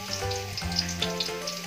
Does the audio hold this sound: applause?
no